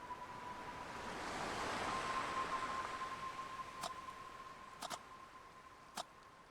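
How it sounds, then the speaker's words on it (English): Ocean waves by a lighthouse in the video game Kathy Rain 2 make a soft, broad surf wash that swells and recedes, with a faint steady tone and a few sharp ticks. "The sound of the waves has a unique quality to it."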